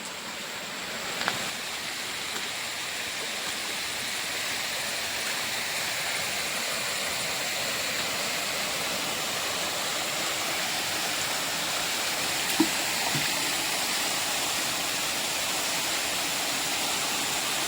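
Steady rushing of flowing water and a small monsoon-season waterfall, a constant broadband roar close by with no voices.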